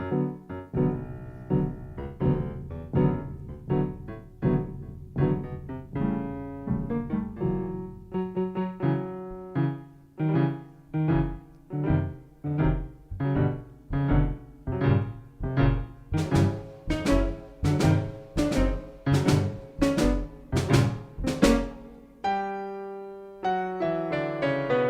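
The grumpy grandfather's theme from Peter and the Wolf in orchestral form: a low, plodding melody of steady, pulsing notes. Bright high accents join near the end.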